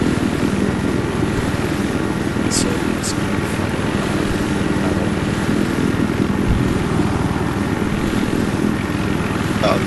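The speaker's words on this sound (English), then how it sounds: "Spotted a hostile helicopter in your AO." A hostile helicopter in a military video game gives off a steady, loud rotor and engine drone that fills the scene throughout, with a couple of brief higher clicks on top.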